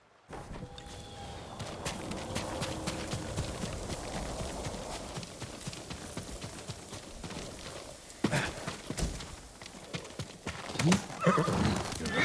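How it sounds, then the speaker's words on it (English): A horse in the video game Ghost of Tsushima neighs and gallops, with clip-clopping hooves close by under a steady outdoor bed. A sharp whinny bursts out near the end. "You're a great horse, Kage."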